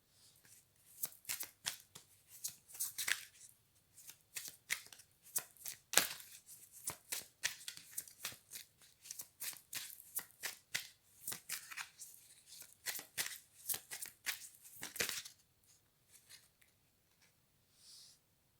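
Cards are shuffled by hand in a quiet room, a long series of crisp riffles and flicks up close with short pauses between bursts.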